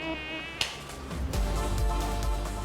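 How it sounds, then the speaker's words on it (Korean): A mosquito buzzes with a thin, high, whining drone, close and steady, while a low rumble and a sharp knock sit underneath. "이 엥 거리는 소리 듣기만 해도 싫은 모기"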